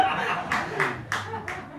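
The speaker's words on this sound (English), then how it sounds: "clapping there" An audience member claps a few times during a comedy set: four sharp, separated bursts of claps close by, with a low murmur of crowd noise underneath.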